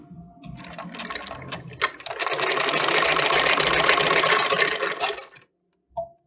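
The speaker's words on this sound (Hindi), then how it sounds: "एक और सिलाई मार दें ताकि ये पक्की हो जाए।" A sewing machine runs a steady, dense stitching burst of about three seconds along a seam on a suit, preceded by lighter start-up stitching and a few sharp knocks, then stops with a short final clack.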